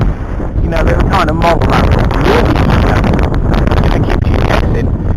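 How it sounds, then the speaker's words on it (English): Strong outdoor wind roars and buffets the microphone without pause while an E-flite Sea Fury model plane is flown, and someone talks through the wind noise. "it's very windy today"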